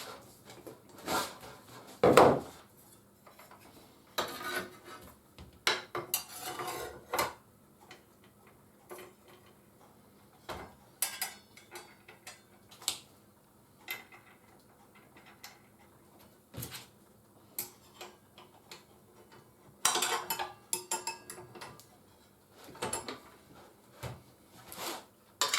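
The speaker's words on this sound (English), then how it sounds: "Okay, putting the blade on." Blade being fitted to a DeWalt DCS572 18V cordless track saw with the battery removed: scattered close clicks, taps and metallic handling knocks with quiet pauses, no voices.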